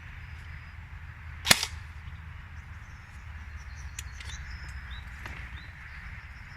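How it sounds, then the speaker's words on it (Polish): One sharp, faint airsoft replica gun shot snaps once outdoors amid low rumbling background noise and occasional distant bird chirps. "zaraz naładuję replikę i zobaczymy jak to wszystko chodzi, jak strzela"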